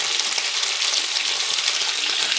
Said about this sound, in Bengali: এবার দেখো কড়াইশুঁটিগুলো ভাজা হচ্ছে